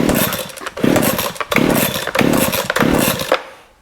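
A Baumr-Ag GCS6200 chainsaw engine fires after being pull-started, catching with loud rough bursts of revving in repeated surges before cutting out near the end.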